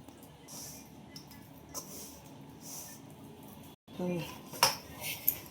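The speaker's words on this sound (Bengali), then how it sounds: "এবার অল্প অল্প করে জল দিয়ে মাখবো" Flour dough for spinach luchi is mixed by hand with water in a metal bowl, giving soft squelching and scraping with a few clinks of the bowl and a brief louder knock near the end.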